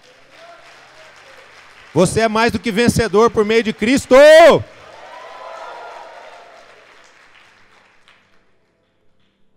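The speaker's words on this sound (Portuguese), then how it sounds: "Então dá um aplauso a Ele." A Sunday church congregation breaks into applause after someone speaks. The clapping rises as a soft, scattered wash and slowly fades away.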